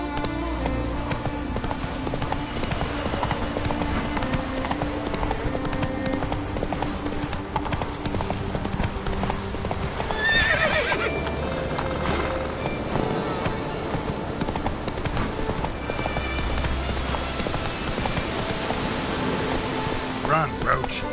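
Roach the horse gallops in The Witcher Wild Hunt with a steady, quick clip-clop of hooves. A rain-like wash runs under it and brief game sounds and faint voices come and go.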